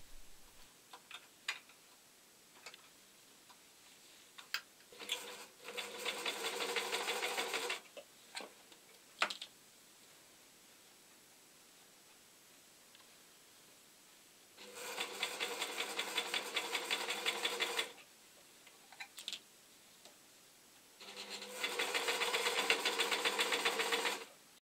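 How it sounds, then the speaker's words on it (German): An overlock sewing machine stitching around a hoodie neckline runs in three loud, steady whirring bursts of a few seconds each. Between them come quiet gaps with small ticks and clicks as the fabric is handled. "Dann nähe ich mit dem Overlock einmal um den Halsausschnitt."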